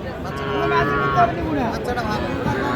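Cattle at a village livestock market moo in a long, drawn-out low call, with other animals and distant crowd murmur behind it.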